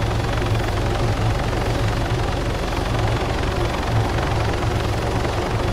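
An aircraft flies overhead near the sea, heard as a steady, loud, broadband rotor-like roar that stays constant throughout with no talking.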